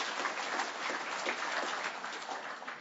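An audience at a flat earth conference in Canada claps together, a dense, steady patter of applause from a crowd that holds for a few seconds at moderate loudness.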